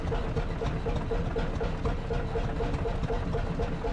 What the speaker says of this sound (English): Their rhythmic putt-putt sound and exposed moving parts mesmerize visitors